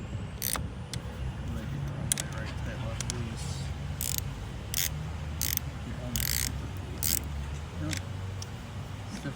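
A ratchet tightening a car battery terminal clamp clicks in short, repeated bursts of sharp metallic ticks spread across the stretch, close by, with low workshop rumble and people talking underneath.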